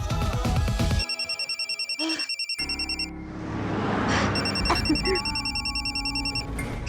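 A phone rings with a loud electronic ringtone in a repeating tone pattern that stops and starts again, with other indoor sounds around it.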